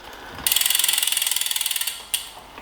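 Ratchet on a Power2Max power-meter bike crank being tensioned for preload on a 2021 Giant Defy, a close rapid run of about twenty clicks followed by a single sharper click, no talk.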